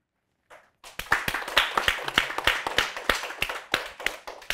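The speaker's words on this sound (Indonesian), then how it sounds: "Cue tepuk tangan." A small studio audience at an interview show breaks into clapping after a short pause, starting with a few scattered claps and then settling into a crisp, fairly close round of individual hand claps.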